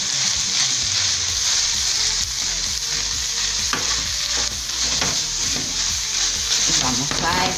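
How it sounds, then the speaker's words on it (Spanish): Diced apple cubes being stirred in a hot pan for Christmas turkey stuffing, a steady close sizzle with scraping stirring strokes throughout. "Vamos a poner ahí y vamos a mezclar."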